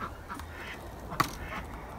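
Ducks quacking while eating, a few soft, scattered quacks with one sharper, louder call near the middle, close by over faint background noise.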